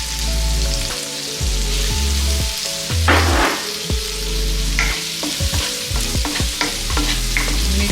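Fresh tomatoes are stirred into a frying pan, a loud, continuous sizzle overlaid with repeated scraping and clattering strokes of the spoon, with no voices.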